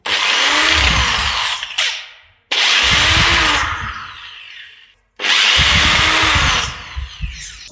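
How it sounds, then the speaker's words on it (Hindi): A power tool whirs in three long, loud, close bursts with short pauses between them as it unscrews two screws from the back cover of a 7 kg Saw Master demolition hammer under repair. "सबसे पहले इन दोनों स्क्रू को खोलेंगे हम लोग।"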